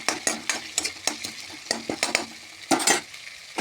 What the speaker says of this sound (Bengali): দিয়ে ভালো করে নাড়াচাড়া লাল লাল করে মশলা ভাজিয়ে নেব।